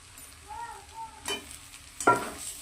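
Fried potatoes are stirred into a sizzling mutton curry in a pan, giving a soft hiss of frying with scraping spoon strokes and a sharper clatter near the end, close and moderately loud, with no talking.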